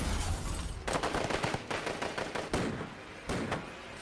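Movie trailer gunfire, a dense run of rapid shots and bursts layered over a loud action soundtrack that keeps going without a break.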